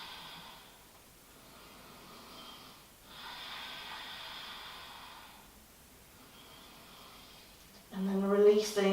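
Slow, steady breathing during a yoga stretch, with long soft inhales and exhales rising and fading over several seconds, close and quiet, ending in a louder nasal snort-like breath.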